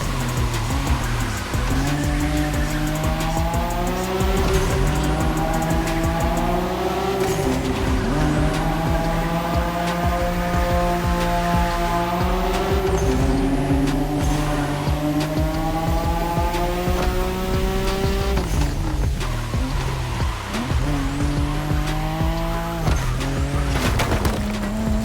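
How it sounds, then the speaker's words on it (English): A race car drifts in The Crew Motorfest video game, its engine revving up and down through gear changes while tires squeal and skid in long sustained bursts, loud and continuous throughout. "Don't you forget, it's all about drifting."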